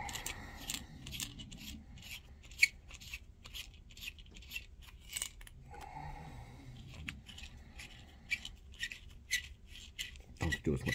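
Faint, rapid scraping and rasping of a hand chamfer tool working the mouth of a .338 Win Mag rifle brass case, in quick repeated strokes with a few small clinks, close and quiet.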